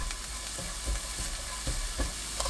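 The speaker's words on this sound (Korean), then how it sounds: "팬에 식용유 1큰술, 다진 마늘 1큰술, 파 넣고 중불로 30초 볶아주세요" Minced garlic and green onion stir-frying in a tablespoon of cooking oil in a pan over medium heat, a close hiss of sizzling with repeated scraping stirs, no talking.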